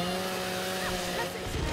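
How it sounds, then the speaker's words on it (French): A steady, buzzing chainsaw drone from Gears of War 4 multiplayer runs throughout, loud and close with a slight wavering whine near the end. "J'ai entendu une tronçonneuse."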